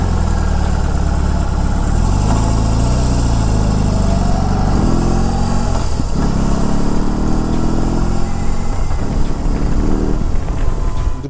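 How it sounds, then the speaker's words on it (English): BMW R18 Roctane's big boxer engine running nearby, a loud, steady, deep rumble with a few rises in revs, continuous throughout with no talk. "Today we have the biggest boxer engine that BMW has crammed into between two wheels"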